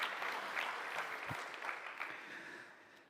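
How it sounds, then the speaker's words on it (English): An audience at a competition final gives a short round of close, dense clapping that tapers off gradually by the end. "Yeah, applause for it."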